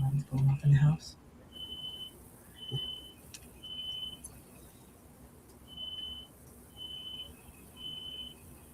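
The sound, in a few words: smoke detector alarm beeping in the house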